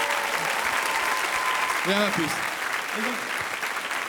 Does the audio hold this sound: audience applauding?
yes